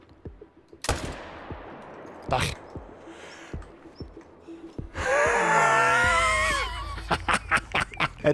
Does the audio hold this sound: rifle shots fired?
yes